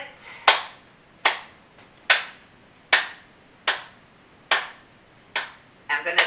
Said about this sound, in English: We're going to add our claps to it.